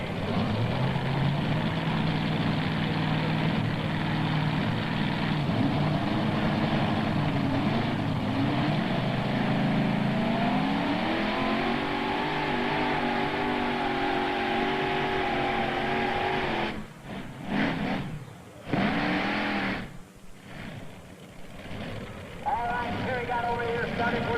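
A modified tractor-pulling engine roars loud and close at a 1995 Turkey Day pull in Imlay City, Michigan, climbing steadily in pitch as it drags the sled, then sputtering and cutting out near the end as the throttle is backed off, with an announcer talking over it.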